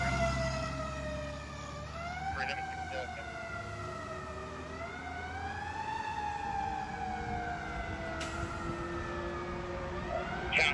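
Fire units responding with a wailing electronic siren that rises and falls steadily throughout, fairly close, with traffic rumble underneath and brief radio chatter.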